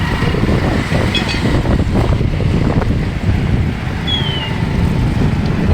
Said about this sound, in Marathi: फेरी बोट आहे